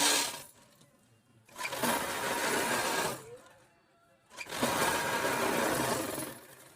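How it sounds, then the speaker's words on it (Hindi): A sewing machine stitches the seat seam of an Afghani salwar, running in two loud, steady bursts of a couple of seconds each with quiet pauses between them. "सबसे पहले आपने इसके आसन की सिलाई लगा ली।"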